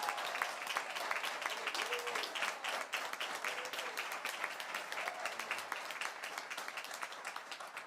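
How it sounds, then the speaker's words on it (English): Sustained audience applause at a school district board meeting, dense steady clapping from many hands throughout at moderate level, with faint voices underneath. "Let's give them a big round of applause."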